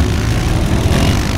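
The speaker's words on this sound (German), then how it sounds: "Hier fliegen überall diese bescheuerten Drohnen rum." Drones fly around a junkyard in an animated Playmobil dinosaur series, a loud, steady whirring engine-like drone that fills the whole moment without breaks or speech.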